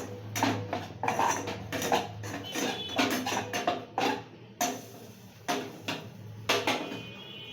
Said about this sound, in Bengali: এক চামচ মতো বেসন দিচ্ছে বেসন এক চামচ বেসন একটু নেড়ে দেবো